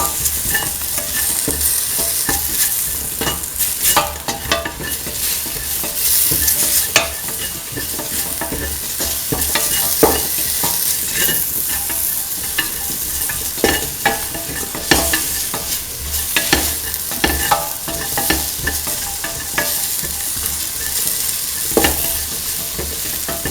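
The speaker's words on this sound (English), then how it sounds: "Thoroughly mix." A spoon stirs a mung bean and ivy gourd mixture in a hot pan, scraping and sizzling continuously at close range, with frequent sharp clacks against the pan.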